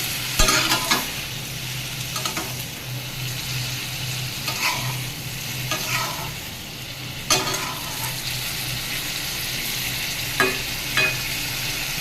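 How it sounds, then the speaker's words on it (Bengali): Spices with bay leaves and cloves frying and being stirred in a pan while cooking bottle gourd with hilsa fish, a steady low sizzle broken by intermittent clinks and scrapes of a spoon against the pan, no talking. "এবারে এটাকে একটু নেড়ে চেড়ে ঢাকা দিয়ে দেবো কষানোর জন্য।"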